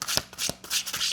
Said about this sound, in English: I'm getting to pull a couple more cards.